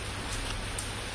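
Soft, steady rain falls at the Aranya Nivas forest resort in Lulung, Simlipal Tiger Reserve, Odisha. It makes an even, faint hiss with no distinct drops or voices.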